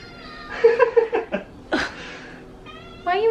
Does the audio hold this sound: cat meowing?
yes